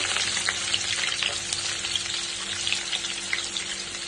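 Onions sizzle in hot oil in a pan for masala chicken pulao, a steady dense crackle with small popping bursts, close and continuous with no voices.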